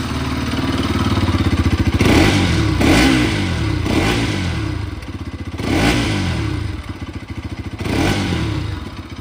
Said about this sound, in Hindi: यहाँ पे बाइक को मैं आपको स्टार्ट करके इसकी एग्जॉस्ट की साउंड एक बार चेक करवाता हूँ।